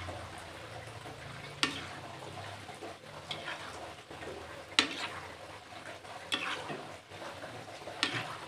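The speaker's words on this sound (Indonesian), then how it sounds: "Jadi ngegorengnya harus sambil diaduk-aduk, kita tunggu warnanya hingga kecoklatan." Egg-coated peanuts frying in hot oil while being stirred, a soft, steady sizzle broken by occasional sharp scraping clicks of the stirring utensil, with no talking.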